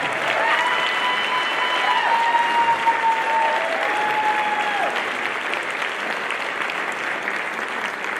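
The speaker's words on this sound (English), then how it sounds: "Let's have another quick round of applause for Falcon Creek Middle School 7th and 8th grade band, Mr. Westbrook." An audience applauds a middle school 7th and 8th grade band at a regional band festival. The clapping is steady and full for the whole stretch, with a few faint cheers over it.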